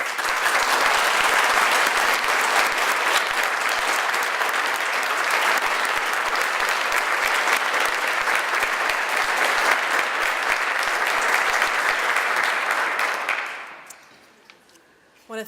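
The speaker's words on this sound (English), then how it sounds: "please stand so we can honor you with one last round of applause." A banquet crowd at a teacher of the year celebration gives honored teachers a long, full round of applause, dense and sustained for about thirteen seconds before tapering off quickly.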